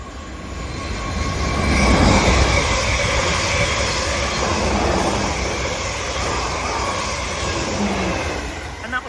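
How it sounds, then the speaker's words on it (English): A South Western Railway train from London Waterloo to Weymouth and Poole passes through Hinton Admiral station, a loud sustained rumble and rush of wheels on rails that swells near the start and then holds steady. "Passing through now is a South Western Railway service from London Waterloo to Weymouth and Poole."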